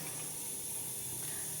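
Tempering spices for a curd popu recipe sizzle in hot oil, a steady, close hiss and crackle that holds evenly from start to finish with no voices over it.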